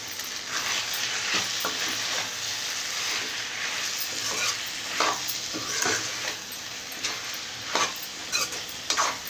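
Eggplant and capsicum masala curry cooks in a pan, a soft steady sizzle broken by light scrapes and clinks as it is stirred.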